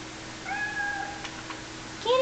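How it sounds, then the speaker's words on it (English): A cat meows in the video game Fatal Frame 3, giving two drawn-out mewing calls and then a brighter, louder one at the very end over a low hum of background game ambience. "Kitty cat!"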